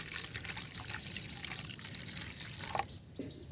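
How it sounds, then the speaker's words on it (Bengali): Water trickles into a bowl of ground mustard paste for sorshe ilish, a faint, close, gentle pour with light dribbling and no talking. "এখানে সর্ষে বাটার মধ্যে দিয়ে দিচ্ছি জল"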